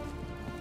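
Steady rain falling in the video game Hitman 3, an even hiss of drops on surfaces with no pauses, alone and without talk.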